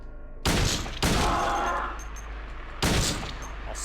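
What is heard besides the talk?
gunfire in a video game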